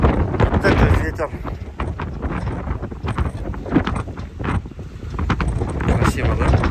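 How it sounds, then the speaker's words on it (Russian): Strong wind buffets a boat on the Lena River, roaring and gusting in loud, uneven bursts that batter the microphone throughout. "Вот это ветер."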